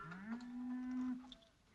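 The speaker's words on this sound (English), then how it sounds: "Drive the cattle through to the water." One long, low moo from cattle being driven to water in an old Colorado western, loud and close, fading out at the end.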